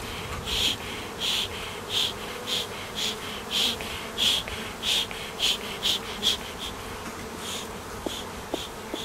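Bees buzzing around an open Kenya top bar hive, close, steady droning with repeated rising and fading swells as insects fly near, with no talk.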